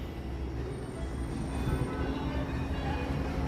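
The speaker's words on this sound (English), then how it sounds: "And it sounds like the train isn't far." A train approaches at Disney's Animal Kingdom, a steady low rumble of rolling cars that grows slightly louder partway through, with faint rail noise above it.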